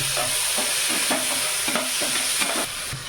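Boiled chickpeas sizzling loudly in a hot pan while being stirred, with repeated rhythmic scrapes of the spoon cutting through the constant frying hiss.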